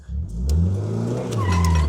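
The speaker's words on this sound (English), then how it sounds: "It does have enough juice to do a burnout." A Ferrari revs hard for a burnout, its engine climbing and falling loudly up close while the tires squeal and skid against the pavement.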